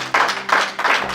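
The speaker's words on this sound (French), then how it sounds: "Clap for yourself in the name of Jesus." Congregation clapping at a church service, three bursts of hand claps in a loose rhythm, fairly close and clear with no talking.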